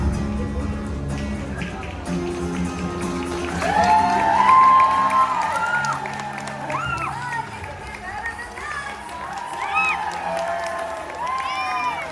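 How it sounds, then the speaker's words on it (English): A stadium audience at a SeaWorld Orlando sea lion show cheering and clapping for the trainers, a broad wash of applause and shouts rising midway, with children's voices and an amplified voice over it. "we're going to need you to cheer and clap them on"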